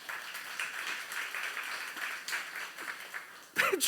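A church youth group congregation claps together in steady, dense applause that holds for a few seconds before fading, followed by a brief louder burst near the end.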